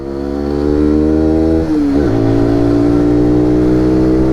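A SYM NH-X 125 scooter engine revs loudly and climbs in pitch while accelerating to around 9,000 rpm, dips briefly, then pulls hard again at high revs.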